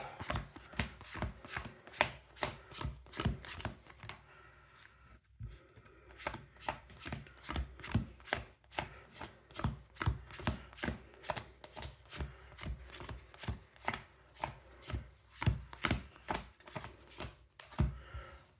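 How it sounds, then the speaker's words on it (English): A Yu-Gi-Oh card deck is pile shuffled, with cards set down one by one in a quick, steady stream of crisp taps and brief pauses, close and alone. "then we'll pile shuffle"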